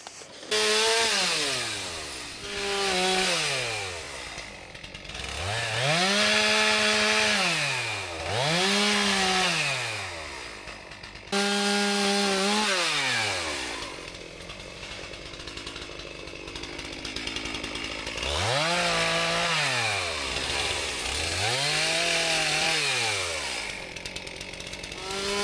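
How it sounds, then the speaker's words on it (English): A chainsaw cuts back mango and other fruit trees to head height, revving up and easing off in repeated cycles, loud and close, with a brief stop partway through before it resumes. "I'm always careful when I'm using a chainsaw and cutting down trees"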